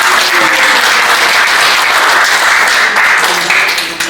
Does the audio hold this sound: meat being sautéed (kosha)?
no